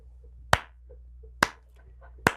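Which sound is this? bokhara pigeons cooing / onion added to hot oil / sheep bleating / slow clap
slow clap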